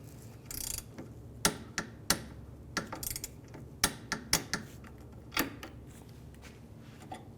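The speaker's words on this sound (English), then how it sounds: "So now our link connected to our control arm is going to get torqued down to 29 foot-pounds." A torque wrench tightens the link bolt on a Honda Element lower control arm, producing a series of sharp metallic clicks and ratchet snaps spaced irregularly at close range.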